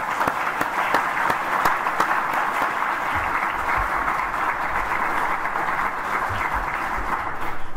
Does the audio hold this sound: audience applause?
yes